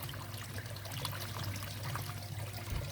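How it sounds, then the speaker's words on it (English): A hand splashes the surface of water to draw fish, a continuous close wash of trickling and sloshing with no voices. "all I do is just splash the water so they know I'm here"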